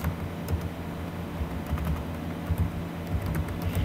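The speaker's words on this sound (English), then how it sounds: "we're going to type in Wim Hoppengarth." Steady, close typing on a computer keyboard, a continuous run of quick key clicks at an even pace with no voice over it.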